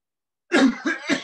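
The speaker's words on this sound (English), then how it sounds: "you breathe in and cough loudly for 3 to 4 times." Three loud, close coughs in quick succession after a moment of silence.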